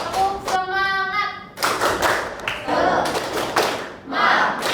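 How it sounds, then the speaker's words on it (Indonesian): Schoolchildren in an Indonesian classroom perform a rhythmic spirit clap with their teacher. Sharp bursts of group clapping come in a quick patterned sequence, opening with chanted voices and broken by short pauses. "Tepuk tangan semuanya. Tepuk semangat."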